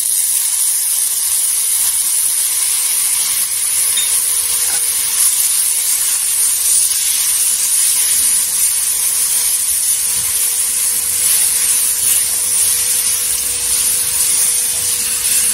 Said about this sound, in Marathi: पुदिन्याची चटणी टाकल्यानंतर तव्याला आहे ना खाली चिटकत, म्हणून काय करायचं, मिरच्या आहे ना हलवतच राहायचं